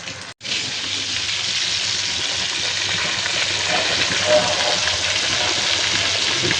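Prawns frying in hot oil on a stove give a steady, close hiss and crackle that runs continuously after a brief gap near the start, with faint voice-like sounds underneath.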